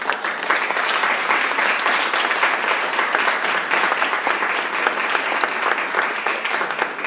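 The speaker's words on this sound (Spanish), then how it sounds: "agradezcamos la participación de las presentadoras con un aplauso general" Sustained applause from an audience thanking the presenters, a dense, steady wash of many hands clapping at even loudness throughout.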